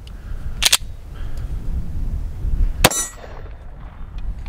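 A Tisas 1911 DS Carry pistol fires one loud, sharp shot outdoors on a range, then a second crack follows about two seconds later before the action stops in a malfunction, leaving quiet ambient noise.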